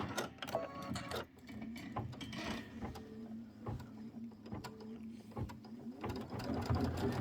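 A computerized embroidery sewing machine stitches a quilting design on an autumn-themed project, a continuous low mechanical hum with rapid ticking and gear chatter, steady and fairly quiet with no voices.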